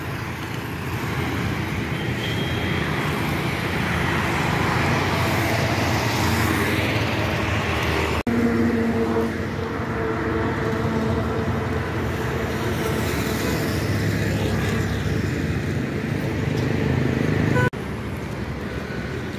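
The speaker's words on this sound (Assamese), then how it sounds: "সো এইটো মেইন হাইৱে হয় ভাল লাগে যিহেতু ইয়াতে বহুত গাড়ী চলি থাকে" Steady broadband roar of heavy traffic on a main highway, many cars and trucks passing continuously at close range, loud and unbroken throughout with no talk.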